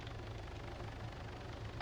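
A helicopter in the military video game ArmA runs steadily with a low rotor thrum and a droning engine. The sound holds at a constant level for the whole stretch, with no voices over it.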